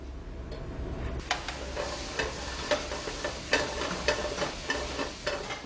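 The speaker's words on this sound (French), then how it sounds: "Les disques sont bien caramélisés, on déglace avec le vinaigre d'Orléans." Caramelized pastry discs deglazed with Orléans vinegar in a hot pan, a steady sizzle with occasional sharp pops and crackles, close and continuous.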